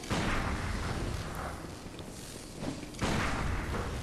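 A boss fires its cannon in the game Bloodborne: heavy booming blasts and thuds, loud and close, with a strong burst at the start and another around three seconds in.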